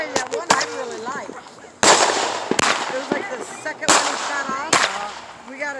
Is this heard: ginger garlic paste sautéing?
no